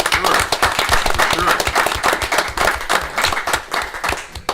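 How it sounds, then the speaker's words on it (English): A room full of people at a township committee work session claps for a scholarship winner, crisp individual hand claps forming a lively, steady round of applause close by. "let's give her a big round of applause"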